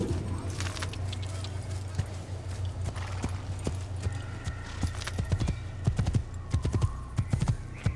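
A horse's hooves clip-clop on hard ground in Assassin's Creed, a steady walking rhythm that quickens and grows louder toward the end over a low game hum.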